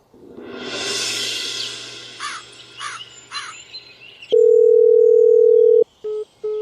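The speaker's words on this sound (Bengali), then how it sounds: "সেই থেকে ফোন করে যাচ্ছি কিন্তু কলটা রিসিভ করছে না কেন?" Cartoon telephone call going unanswered: a long, loud, steady electronic tone followed by short beeps, preceded by crow-like caws and squawks.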